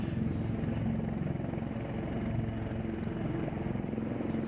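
Military helicopter flying general handling training with pilots and crew at Salisbury, a steady continuous rotor and engine drone at moderate distance throughout, with no talk over it.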